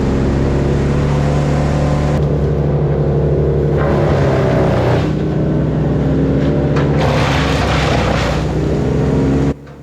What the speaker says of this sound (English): So you heard me crank it up.